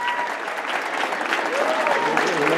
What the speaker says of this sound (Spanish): Fuerte aplauso también, por favor.